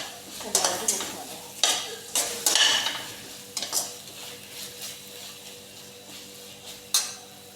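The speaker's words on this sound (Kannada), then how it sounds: "ಚಿಕನಿಗೆ ಸ್ವಲ್ಪ ಶುಂಠಿ ಬೆಳ್ಳುಳ್ಳಿ ಪೇಸ್ಟ್ ಜಾಸ್ತಿ. ಅದನ್ನು ಮಿಕ್ಸ್ ಮಾಡುವ. ಸ್ವಲ್ಪ ಹಸಿ ವಾಸನೆ ಹೋಗುವವರೆಗೆ ಚೆನ್ನಾಗಿ ಮಿಕ್ಸ್ ಮಾಡುವ." Chicken with ginger garlic paste is stirred in a frying pan, a utensil scraping and clinking in irregular strokes over a soft sizzle, close by, with no talk.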